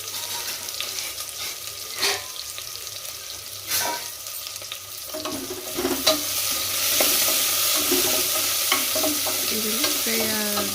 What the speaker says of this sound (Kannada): ಫ್ರೈ ಮಾಡಬೇಕು ಈರುಳ್ಳಿನ.